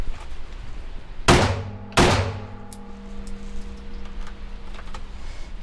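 Two sharp pistol shots ring out at an outdoor shooting drill, less than a second apart, each a loud crack that leaves a short metallic ring behind, followed by quiet background.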